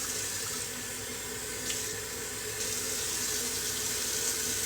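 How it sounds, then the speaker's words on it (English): Hot water streams steadily from a tap or kettle into a pot holding flour and butter, a continuous close splashing pour that holds for the whole stretch with no talking. "Now I'm going to start adding hot water just like a little bit at a time."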